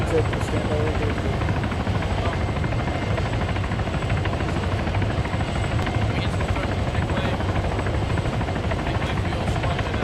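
A constant, heavy thrum of helicopter rotors and engines at a military staging area, unbroken for the whole stretch, with muffled human voices buried under the din.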